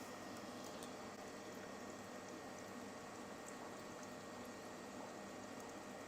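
A coffee maker powered by a solar generator brews with a faint, steady gurgling and hissing of hot water, continuous and unbroken, with no talking.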